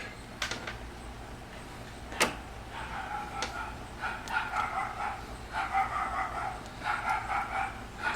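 A dog barks in a garage while a 1984 Honda Nighthawk S carburetor is reassembled, a run of faint, fairly distant yips and barks in an irregular rhythm, heard alone without talk.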